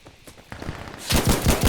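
Rapid gunfire bursts from the video game Insurgency Sandstorm, with scattered shots early on building into loud, dense automatic fire that dominates the second half.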